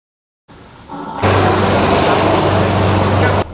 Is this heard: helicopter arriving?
yes